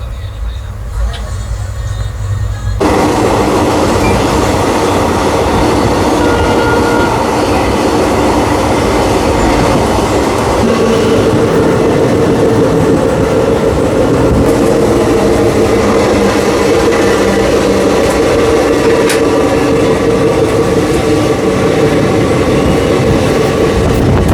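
The Sindhanur Express, a diesel-hauled train, runs along the rails with a loud, steady rumble and rhythmic wheel clatter close by, beginning with a quieter moment before the full roar sets in; voices may be faintly present.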